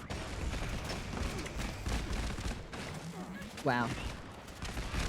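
Gunfire from a Fallout video game fight, a steady run of shots with background battle noise, while someone speaks briefly and exclaims over it.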